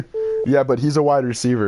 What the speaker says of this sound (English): Sorry that my phone keeps on beeping